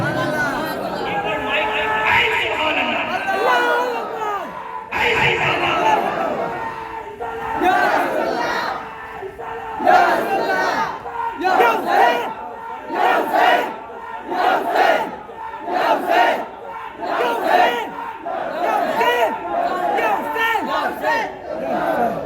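A large crowd at a religious gathering chants a slogan in loud repeated bursts, voices rising together in rhythmic waves with shouting and chatter between calls.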